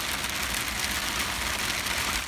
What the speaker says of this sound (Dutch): maar helaas begon het keihard te regenen.